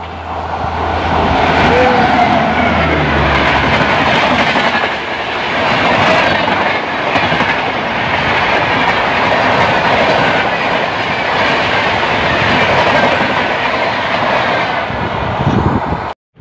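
The Tejas Express, a Mumbai–Ahmedabad passenger train, passes close by near a bridge. It makes a loud, continuous roar with rhythmic wheel clatter that stays steady for over fifteen seconds and then cuts off abruptly.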